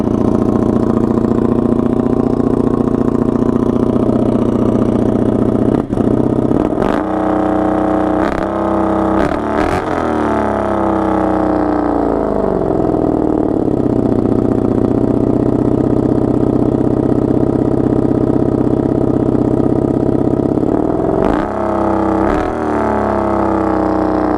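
A 1982 Honda Magna V45 VF750C motorcycle with a V4 engine idling loudly up close in a steady low burble, broken by several short throttle blips that rise and fall, with a final few blips near the end.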